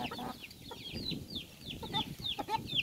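Young chickens clucking and cheeping close by, a busy run of short chirps and clucks overlapping throughout, fairly quiet overall.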